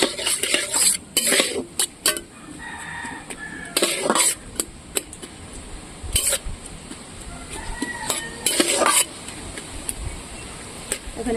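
Chopped onions cook in mustard oil in a kadai, with repeated clattering scrapes and knocks of a spoon stirring against the pan over a faint steady frying hiss.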